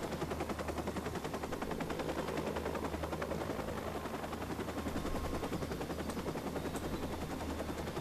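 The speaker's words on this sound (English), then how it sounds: "that helicopter's there" Helicopter in the video game Watch_Dogs: a dense, continuous rotor chop with rapid pulsing under steady engine noise, fairly loud and unbroken throughout, with no talk.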